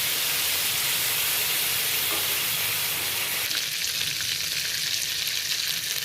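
Whole garam masala, dried chilli and bay leaf crackle and hiss in hot mustard oil left over from frying shrimp. The sizzle is loud and steady throughout and brightens partway through.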